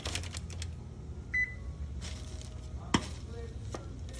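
Tongs or a spatula clink and scrape in a frying pan as dough balls are turned over one by one, with scattered close taps, a short beep near the start and one sharper knock midway, no talking.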